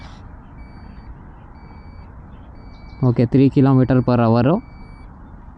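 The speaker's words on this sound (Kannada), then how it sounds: "ಆ್ಯಂಡ್ ಬೀಪ್ ಸೌಂಡ್ ಕೂಡ ಕೇಳಿಸ್ತಾ ಇದೆ." A TVS iQube electric scooter in reverse mode gives a short run of repeated electronic beeps. The beeps come close and loud after a quiet stretch of faint background hum.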